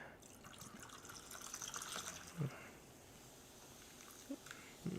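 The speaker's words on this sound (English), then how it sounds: "Seltzer here. A little splash." Seltzer poured into a glass with a faint fizzy hiss and a couple of soft splashes and drips, fairly quiet and close.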